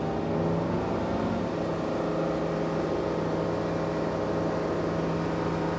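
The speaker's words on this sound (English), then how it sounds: "all I do is push the throttle all the way, and the rest is done automatically" A Sea Ray SDX 270 Surf Edition boat's engine holds a steady, loud drone at full throttle on the water, a continuous low hum with a strong constant tone and no talking.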